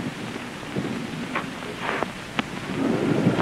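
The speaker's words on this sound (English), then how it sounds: "Ah, thunder and lightning." Thunder rumbles through rain and wind in an early 1930s film soundtrack, a steady stormy wash with a few sharper cracks.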